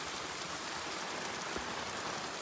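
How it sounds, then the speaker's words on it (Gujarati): Heavy rain pours steadily in a continuous hiss with pattering drops on surfaces, with no voices. "અને વરસાદ છે બહુ વધી ગયો છે હવે."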